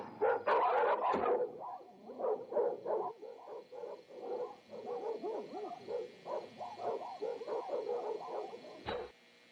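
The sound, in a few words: dogs barking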